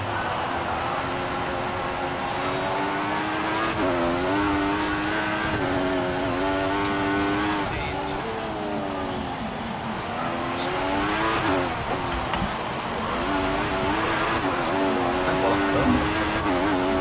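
Pack of race cars in a racing video game at a German circuit, engines droning and rising in pitch through gear changes, a continuous loud roar of several cars close together.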